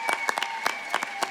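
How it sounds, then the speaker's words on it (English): An audience at a community dance competition show gives scattered, sharp hand claps in a quick, uneven patter. The claps sound close and moderately loud, and no voice is heard. "Let's give them another round of applause."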